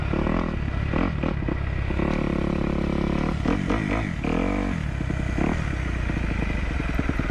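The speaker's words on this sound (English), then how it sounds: "Some neighbors were not pleased about this biker speeding and ripping up and down the neighborhood" A motorcycle speeds through a residential neighborhood, its engine loud and near, revving up and down with rising and falling pitch and brief rattling clatter.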